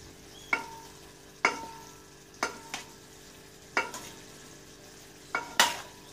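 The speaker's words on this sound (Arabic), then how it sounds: "غنزيد عليها شويه زيت مليه وغادي نخلطها هكا" Macaroni with a little oil stirred in a pan, a soft sizzle under five or six sharp utensil scrapes and taps at roughly one-second intervals, close up with no voices.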